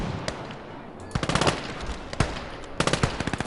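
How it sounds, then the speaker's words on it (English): Machine gun fire in the World War trench game Gates of Hell, rapid bursts of sharp shots rattling over a dense battlefield din, with a short burst early, a longer run in the middle and another burst near the end. "Gun's doing a great job."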